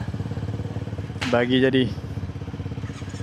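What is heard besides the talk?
motorcycle engine starting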